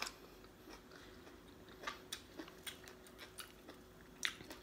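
Someone chewing freshly steamed sticky rice with fried chicken wings, chili dip and fresh vegetables, close and quiet, with soft irregular wet bites and crunches and no talking.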